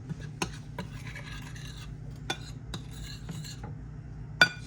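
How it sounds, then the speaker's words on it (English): Spoon scraping and clinking in a bowl as seasoning is stirred into batter for double-battered fried chicken, with irregular close scrapes and a few sharp knocks over a low steady hum. "And stir it really, really good."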